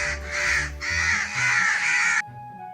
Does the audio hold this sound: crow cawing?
yes